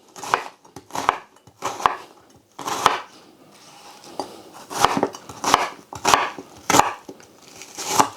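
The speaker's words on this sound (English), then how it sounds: "So I'm just going to roughly chop up this onion." A knife chops roughly through an onion on a cutting board, sounding as a series of close, sharp, irregular thuds and cuts with short pauses between bursts, alone without talk.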